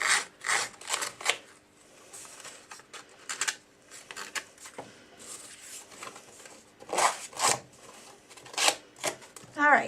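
A cutter tool's distressing edge rasps around the edges of a paper graduation card in repeated short, close scratching strokes, irregularly spaced, with faint speech-like sounds mixed in.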